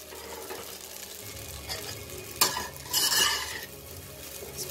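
Egg pasta being stirred with sauce in a pan on the stove, utensil scraping and clinking against the metal in uneven strokes over a low sizzle, with a louder scrape partway through.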